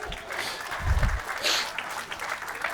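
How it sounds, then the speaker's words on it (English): Wedding guests at the Island Hotel in Fort Walton Beach, Florida, applaud Maya during a toast. The steady, moderately loud clapping comes from a room of people, with a thump and some brief voices mixed in. "give Maya a round of applause"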